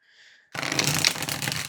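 A new cardstock deck of playing cards being riffle-shuffled, one dense crisp burst of rapid card flutter that follows a short faint tone and runs close and loud to the end.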